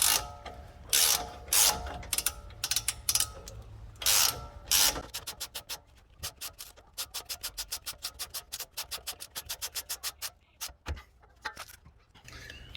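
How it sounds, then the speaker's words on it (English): A bolt on a 2009-2021 Dodge Ram front lift kit is tightened with a wrench, giving bursts of close, crisp ratcheting clicks that settle into a fast, even run of clicks before slowing again. "we're gonna go ahead and get our adjustable wrench, and we're just gonna hook it up right here on this guy, and we're just gonna go ahead and tighten away"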